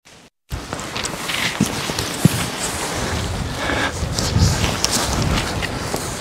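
Wind buffets the microphone on a paragliding training hill, a steady rough rush with a few soft thumps, close and fairly loud, with no talking.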